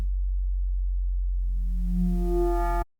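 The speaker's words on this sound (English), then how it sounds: "Okay, distortion is doing a lot." A synthesizer tone with a distortion effect starts as a low, steady hum and then swells into a buzzing, harmonic-rich note before it cuts off abruptly.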